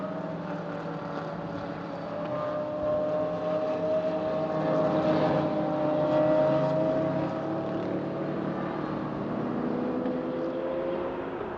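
Race cars from the Pièces Auto Hyper Sprint series lap the German Hockenheimring circuit, a steady droning engine roar with overlapping tones that swells slightly mid-way and stays loud and continuous throughout, with no voices.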